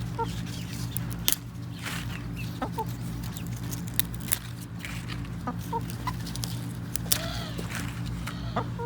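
Backyard chickens cluck and murmur close by in a garden over a steady low hum, with scattered soft clucks, a few sharper calls and occasional rustling footsteps.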